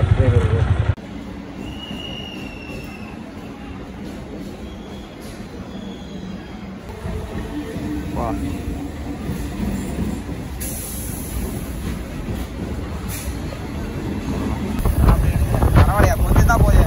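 A train rumbles through Chennai Egmore railway station with steady low noise, occasional wheel squeals and wind buffeting, and some faint voices in the background.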